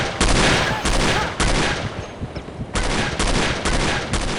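Rapid bursts of gunfire with fire bullets in the shooter game No One Lives Forever, loud and close, three sustained volleys separated by short lulls.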